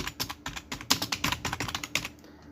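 Quick clicking keystrokes on a computer keyboard as a name is typed, an uneven run of close, crisp taps with no talking.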